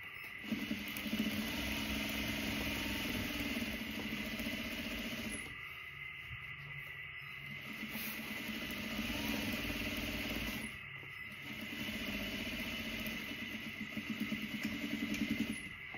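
Sewing machine stitching fabric back shut on a student desk divider, a steady mechanical whir with a fast rhythmic hum that briefly drops in level twice, close and continuous with no speech.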